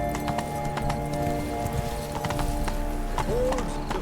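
Horse hooves clip-clop steadily in the video game The Witcher 3, a loud close rhythmic gallop with a brief whinny near the end, over a busy game soundscape.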